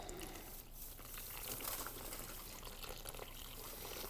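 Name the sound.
water poured from jugs washing sediment away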